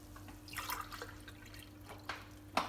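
Water poured from a cup into baghrir batter mix sounds as a few soft, close pours and splashes, with short bursts spaced apart and a final sharper splash, quiet and without talk.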